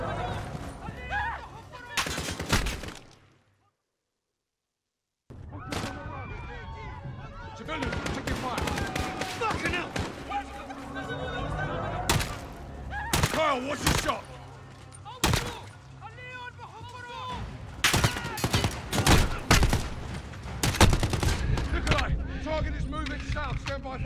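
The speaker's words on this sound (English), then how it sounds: "Gunshots, of course." Gunfire in the video game Call of Duty: Modern Warfare comes in repeated loud sharp bursts and single shots, broken by a brief silence early on, with in-game voices shouting between the shots.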